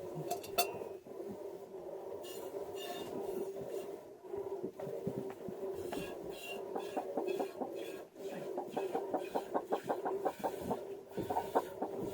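Soft clucking from a chicken close by, in short repeated bursts against a quiet background.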